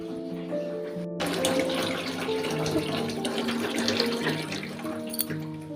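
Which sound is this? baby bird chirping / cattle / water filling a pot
water filling a pot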